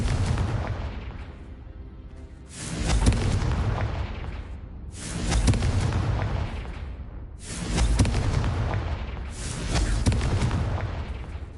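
Confringo fire spell explosions in Hogwarts Legacy, four heavy booming blasts spaced about two to three seconds apart, each swelling and trailing off into a rumble, loud and close with no talk.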